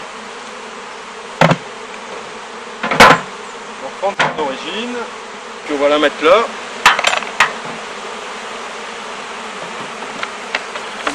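Honeybees hum steadily around a hive during queen rearing, a constant close drone under someone speaking French, with occasional clicks and knocks of hive equipment.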